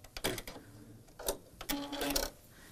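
A sewing machine stitches a quilt seam in short rapid bursts, each a clattering mechanical rattle separated by brief pauses, heard up close.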